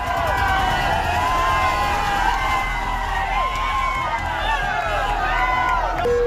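A crowd of farmers with a tractor storms police barricades outside a minister's house in Haryana, with a steady loud roar of crowd shouting and engine noise throughout, voices overlapping.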